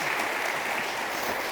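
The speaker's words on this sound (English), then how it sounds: "Please give our speakers a round of applause" Audience applause for panel speakers at a talk on digital technology in African football, a dense even clapping wash sustained throughout at moderate distance.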